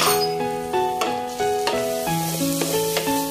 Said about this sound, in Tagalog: Haluin na natin siya.